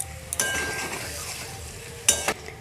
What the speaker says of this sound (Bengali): ডিমটাও একটু আলুর সঙ্গে মিশিয়ে দিয়ে আরও কিছুক্ষণ কষিয়ে নেব